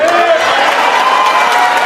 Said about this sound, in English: Thank you for that very generous applause.